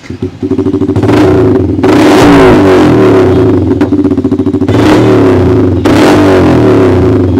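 A motorcycle fitted with an aftermarket exhaust revs hard and loud up close, its rough, throbbing engine note surging in repeated blips over a continuous idle, with no talking.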